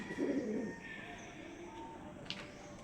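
Kalanka pigeons give a soft, low coo near the start over a murmuring background, followed by quieter ambient noise and a faint brief chirp.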